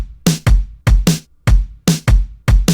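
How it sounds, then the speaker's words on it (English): FL Studio drum pattern pairing an acoustic kick with a very short lo-fi snare, about eight crisp, loud hits in a steady, punchy groove with no other sounds. "I have this snare. It's a very short kind of lo-fi-ish type of snare,"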